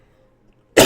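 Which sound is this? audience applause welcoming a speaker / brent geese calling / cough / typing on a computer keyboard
cough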